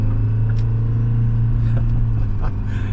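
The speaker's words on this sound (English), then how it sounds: "now the turbo under load" Detroit 4-53T two-stroke diesel with a Garrett turbo working under load, producing a steady, loud, close rumbling drone with an even low hum and a few faint high clicks.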